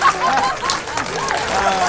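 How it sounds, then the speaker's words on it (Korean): NASA staff in mission control erupt in cheers at the Mars InSight lander's touchdown, a dense, steady wash of many voices whooping and clapping with individual shouts rising above the crowd throughout. "정말 터치다운 컨펌도 했을 때 온 나사 직원들이 환호를 합니다"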